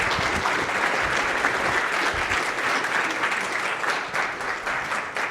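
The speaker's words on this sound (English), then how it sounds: "A big round of applause for our presenters." A conference audience at FinOps X 2024 applauds presenters with steady, dense clapping that holds for about five seconds, fairly close and even in loudness, with no talking over it.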